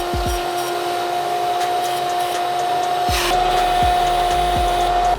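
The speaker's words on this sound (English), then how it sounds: "Shove it down in there, pull the trigger, rip the vacuum, make sure your valves are closed." A shop vacuum runs steadily while cleaning carbon from the intake valves of a Mazdaspeed 3 engine, a loud constant whine with tonal hum, close by, punctuated by a few low thumps and rattles.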